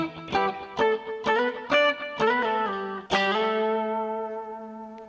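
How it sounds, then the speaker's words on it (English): Clean electric guitar picks a short run of paired octave notes in a steady rhythm, then lets a final chord ring and slowly fade. "So we're back to the clean sound and we're back to the octave shapes."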